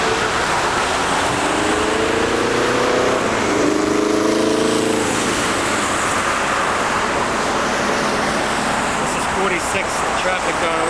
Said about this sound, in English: Traffic going away, 46 west.